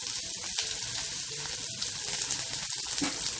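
Chopped onion and garlic frying in hot oil in a pan for an egg masala, a steady close sizzle with faint watery crackle throughout and no talk.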